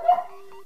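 A pet dog indoors gives one short, sharp yelp that trails off into a thin, sustained whine, close by and fairly loud.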